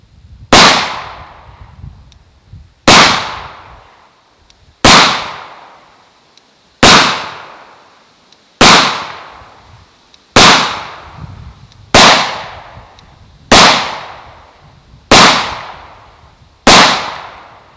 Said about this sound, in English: We'll shoot 10 more just to give the gun a fair chance.